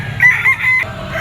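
Kelso bloodline bull stag rooster crowing at a poultry market, a single loud close crow broken into several stretched, strained segments over about a second.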